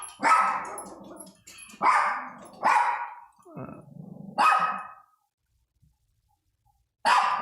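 A dog barks repeatedly indoors at home, loud and close, in bursts of several sharp barks with a brief growl between them, then a pause before another bark.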